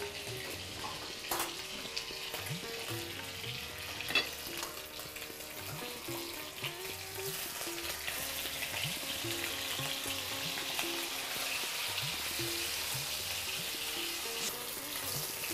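Fish sizzles and spits in a frying pan for a Bengali dish, a steady crackling fry close by with occasional stirring clicks and no one talking.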